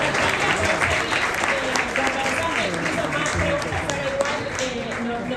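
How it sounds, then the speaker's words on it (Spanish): An audience at an environmental report presentation applauds, a dense and continuous patter of many hands with a voice speaking over it. "Otro aplauso, por favor, pido para todos"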